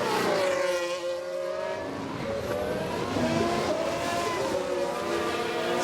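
Formula 1 cars in F1 Manager 2022 at the Japanese circuit, engines whining at high revs with rising and falling pitch as several cars pass, a steady loud roar throughout without any talking.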